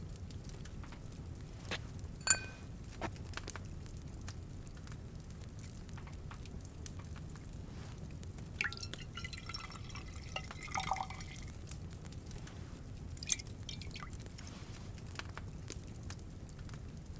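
Liquid poured from a cauldron while brewing a potion in Kingdom Come: Deliverance 2, a quiet trickle and scattered dripping over low ambient background, with a few faint clicks and no speech.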